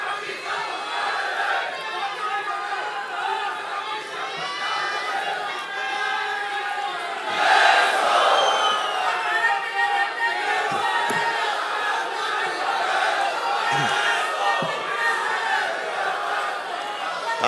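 A large political rally crowd at a politician's speech event roars and chants continuously, swelling into a louder burst of cheering midway, with shouts and murmurs mixed throughout.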